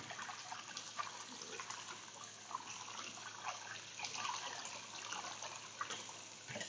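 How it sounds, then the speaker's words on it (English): Tap water runs steadily over boiled noodles being rinsed to wash off their starch, a continuous close splashing hiss with small irregular spatters, no voices. "so let's wash the noodles again. Remove the starch completely."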